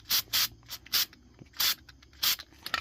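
Sharp bursts of spray paint hiss over the welded, ground spots of a go-kart frame, about six short close blasts with quiet gaps between them.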